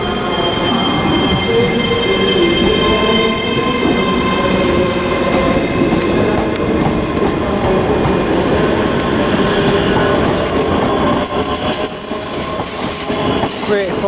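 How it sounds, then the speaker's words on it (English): A ScotRail Class 385 electric train pulls out of Glasgow Queen Street station on a service to Edinburgh, a steady rumble of wheels with squealing and clicking over rail joints, fairly close and continuous. "Also departing is the 1115 ScotRail service to Edinburgh."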